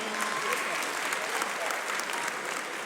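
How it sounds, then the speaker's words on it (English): An audience at a stand-up comedy show in Lagos breaks into applause, a dense, even wash of clapping that holds steady and fairly loud throughout the brief moment. "Yes, clap for me."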